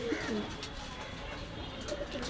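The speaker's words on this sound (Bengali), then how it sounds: "কিছু ঘুঘু পাখি আছে" Doves in a pigeon shop coo softly nearby, low rolling calls under a voice and general shop background.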